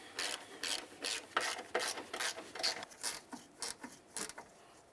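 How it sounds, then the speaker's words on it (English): A bolt is threaded by hand into the strut assembly of a 2007–2012 Nissan Sentra, giving steady, close, rhythmic rasping turns repeated a dozen or so times with no talking. "I'm going to go ahead and start in my bolt"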